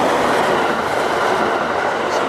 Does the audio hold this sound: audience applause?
no